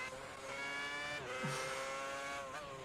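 A V8 Formula One car in the F1 2010 game howls at high revs, its loud steady whine dipping briefly with gear changes and rising again, with a short tyre squeal midway.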